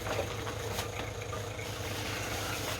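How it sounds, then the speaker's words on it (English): A vacuum pump used in fuel tank cleaning and sealing runs steadily with a low, pulsing mechanical hum and a rattly drone, continuous and fairly close, with no talking. "The noise you can hear in is the vacuum pump running."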